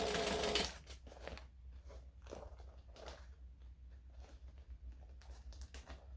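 A sewing machine stitching fabric whirs loudly in a brief burst at the start, then gives way to quieter scattered clicks, taps and handling noises of fabric being lined up and stitched.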